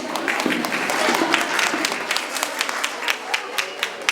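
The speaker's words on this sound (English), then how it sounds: "So please give a huge round of applause." An audience at a Science Day carnival breaks into applause, a dense run of clapping that swells early and then thins into sharper individual claps, close and lively.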